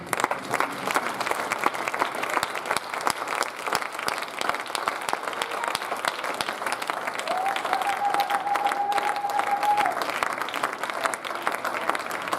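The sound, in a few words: congregation applauding in church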